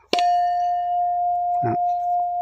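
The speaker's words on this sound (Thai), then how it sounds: "อันนี้คือ ระฆังน่าจะเป็นระฆังเนาะ" A bell at a Thai temple, Wat Phra That Phu Ngoen, rings with one sharp strike and then a long steady ringing tone. A voice speaks briefly partway through as the tone carries on.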